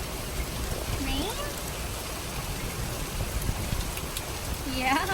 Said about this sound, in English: Do you see the rain?